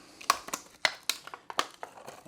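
Shellcrete being broken apart out of a plastic solo cup, a close series of sharp crunching cracks and crumbling snaps in irregular rhythm, with no voices.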